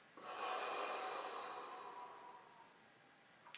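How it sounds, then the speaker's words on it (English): A deep breath let out in one long, close, breathy exhale that starts strong and tapers slowly over about three seconds, with a short sniff at the end. "I'm just going to take a big deep breath"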